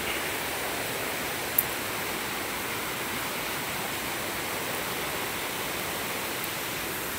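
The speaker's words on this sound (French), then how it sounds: "l'autre côté de la cascade." Small waterfall at Mortain-Bocage in the Manche, heard up close as a steady, broad rushing roar of falling water that stays even and unbroken throughout, with no voices.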